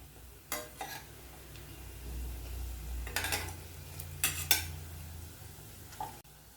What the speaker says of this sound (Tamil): எண்ணெய் நல்லா சூடானதும் ஒவ்வொரு ப்ரானாக போட்டு ஃப்ரை பண்ணி எடுத்துக்கலாம்.